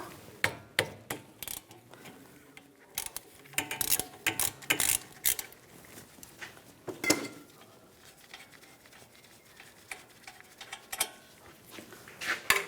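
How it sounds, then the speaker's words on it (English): Ratchet and 10mm socket work loose the lower brake caliper bolt on a 2014-2023 Jeep Cherokee during a rear brake job: repeated rapid clicking bursts with metallic clinks, close and uneven in rhythm. "Using a 10mm socket, take the lower caliper bolt out."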